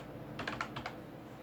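Quiet keys clack on a computer keyboard while values are entered into an Excel spreadsheet, a quick cluster of about five soft taps close up.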